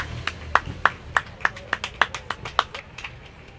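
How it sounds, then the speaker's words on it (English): A few spectators at a rose parade clap along the street, a sparse run of sharp individual claps with a slightly uneven rhythm, close and moderately loud over a low background rumble. "And they do not mind applause."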